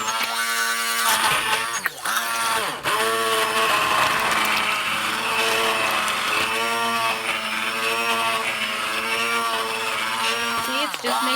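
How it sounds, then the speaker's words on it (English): A Dash Chef Series five-speed immersion stick blender mixes homemade cheese sauce, its motor whining loud and continuous, with brief dips in pitch as the load changes. "I'm just going to use just the blender here, and hopefully I'm not going to splatter this all over myself."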